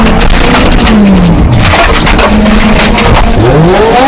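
A Spirit Hachiroku race car spins on a track, a loud, saturated blast of engine roar with wavering pitch and tire scrub throughout.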